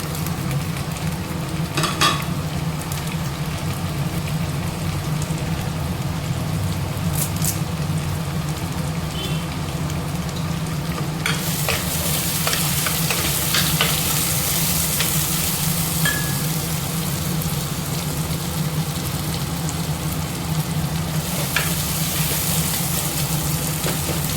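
Tomatoes sautéing with onion and garlic in a clay pot, a steady low sizzle running throughout with occasional stirring scrapes and clinks, close and alone with no talk.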